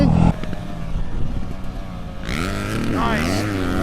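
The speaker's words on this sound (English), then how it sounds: "Let's get that two-stroke ripping, baby!" A two-stroke dirt bike engine revs hard up close at a riding and jumping session with friends, its loud buzzing drone climbing sharply in pitch partway through.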